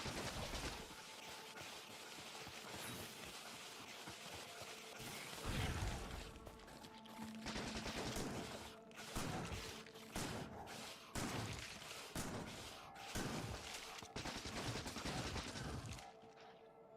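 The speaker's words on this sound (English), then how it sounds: "You can run at full speed while shooting the machine gun." Machine-gun fire in Factorio on a deathworld map, clearing a nest: rapid bursts of sharp shots with short gaps between them, fairly quiet overall, no talking.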